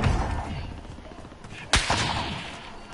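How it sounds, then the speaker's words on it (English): Sniper gunfire in the video game Warzone: one sharp, loud crack stands out mid-clip against a busy game soundscape, followed by a fainter echoing report. "I'm getting sniped at."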